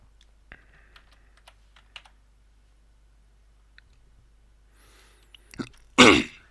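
Someone types a command in the King's Quest 3 text adventure on a computer keyboard: sparse, quiet, close keystroke clicks spread out with pauses, followed by a sudden loud burst near the end.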